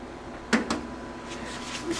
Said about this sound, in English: You're going to crack the door open just a little, and I'm going to use a wooden spoon to hold the oven door.